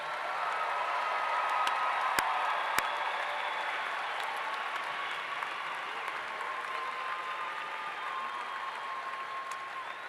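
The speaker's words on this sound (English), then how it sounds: "How about another big round of applause for all of our graduates today?" Sustained applause from a commencement ceremony crowd honouring graduates, steady broadband clapping for about ten seconds at moderate level with a couple of sharp louder claps near the start and no talk over it.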